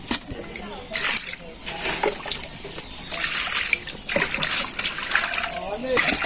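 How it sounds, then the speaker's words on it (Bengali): Koi fish being rinsed by hand in a basin of water, with intermittent splashing, trickling and sloshing at close range while people talk nearby. "এই যে মাছ ধোয়া শেষ"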